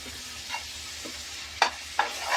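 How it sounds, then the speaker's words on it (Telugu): Curry leaves and green chillies crackle and sizzle in hot oil and masala for a crab curry, with a steady frying hiss, soft stirring scrapes, and two sharper spattering bursts near the end. "ఇప్పుడు కరివేపాకు, పచ్చిమిరపకాయలు వేసేద్దామండి. మసాలాలో మంచిగా వేగాలి."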